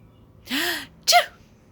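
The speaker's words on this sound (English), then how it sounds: "stepping into the back hall when I sneezed" A single sharp sneeze close by, a quick breathy intake followed by an explosive burst, then quiet.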